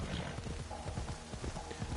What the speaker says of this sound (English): I do enjoy just letting the horse go